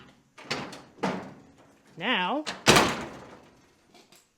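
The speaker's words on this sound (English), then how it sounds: "we got an opening and closing door with pretty damn good gaps" A car door on a 1950 Chevy in the middle of a chassis swap, with a redrilled latch, is worked in a garage. Two soft clunks lead into a wavering metallic squeak, then a loud slam, with a brief spoken word.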